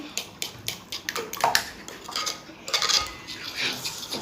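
Bread pudding mixture is worked together with egg by hand in a bowl, bringing a close run of clinks and light knocks against the bowl in an uneven rhythm.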